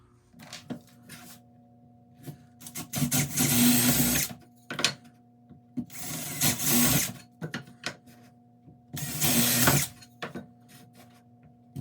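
Three bursts of a power drill whirring as it drills into plastic cutting-board legs, each lasting about a second, separated by quieter clicks and handling noises.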